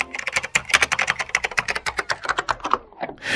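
Fast, steady clicking of keys on a computer keyboard, close up and alone, with a brief pause near the end.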